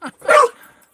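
A dog gives one short, close bark after a brief yip, followed by a faint trailing whine in a quiet room.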